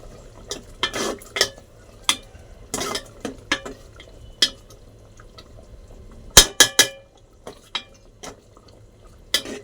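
Gongura leaves being stirred together with raw prawns in a pan: irregular clinks and scrapes of a utensil against the pan, spaced out, with a few sharper knocks, close and fairly clear.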